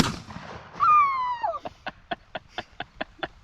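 A shotgun fires a flame round outdoors: one loud blast carries a falling whine, then a string of sharp, evenly spaced crackles or pops follows close by, with no talk.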